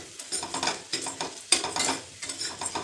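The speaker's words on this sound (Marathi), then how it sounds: "डाळव्याऐवजी आपली हरभऱ्याची डाळ जरी छान भाजली तरीसुद्धा छान खमंग भाजून घ्यायची" Chana dal dry-roasting in a pan for a Maharashtrian curry, with rhythmic scraping strokes of a spoon against the metal and a light crackle between strokes, close and clear.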